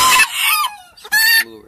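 Old English Game chickens in a yard, a loud close hen cluck and crow-like call followed by a second bright burst, brief and clear with no talking.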